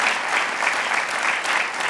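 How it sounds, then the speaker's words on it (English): Audience applause at a university innovation center launch event, a steady dense wash of clapping from a sizeable crowd that holds at an even level throughout with no voices over it. "it's worth a round of applause"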